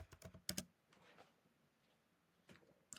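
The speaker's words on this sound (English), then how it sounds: "I can type in Venus," Quick bursts of computer keyboard typing, a short cluster of keystrokes up front and a couple of isolated clicks later, fairly close but quiet with a soft background hiss between taps.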